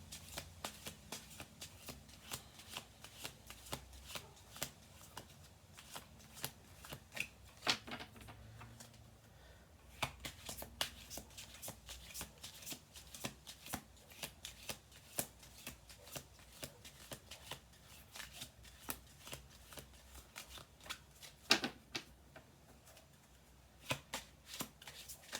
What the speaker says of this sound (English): We're going to do one more shuffle after this.